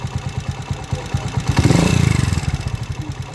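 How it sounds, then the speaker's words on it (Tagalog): Small motorcycle engine with a noisy timing gear, slated for a 200cc conversion, idles with a steady rapid clatter, then revs briefly and settles back, close and fairly loud. "Maingay na yung timing gear."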